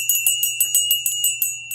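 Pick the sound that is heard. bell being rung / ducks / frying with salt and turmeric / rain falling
bell being rung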